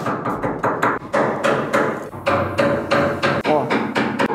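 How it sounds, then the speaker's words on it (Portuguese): A small hammer taps a sharpened wood chisel while fitting a wooden door, giving a quick, steady series of close, sharp knocks, roughly three to four per second, with no talking. "Agora, formão bem amoladinho e um martelinho."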